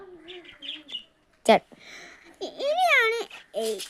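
Caged pet birds chirp and warble close by in short, varied bursts separated by brief pauses.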